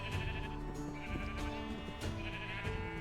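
Sheep bleat repeatedly in the farming world of the video game Township Tales. The calls are steady and fairly loud and sit over a busy layer of game music and ambience.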